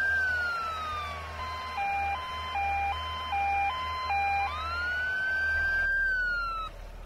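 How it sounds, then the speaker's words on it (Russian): A cartoon ambulance siren sounds in a children's vehicle game, a bright electronic two-tone warble sweeping up and down, fairly loud and alone. "Машина скорой помощи."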